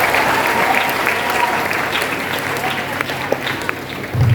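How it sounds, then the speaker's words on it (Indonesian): An audience at a pesantren launching event claps in loud, steady applause that thins toward the end, with voices audible underneath. "dan untuk itu kita tepuk tangan."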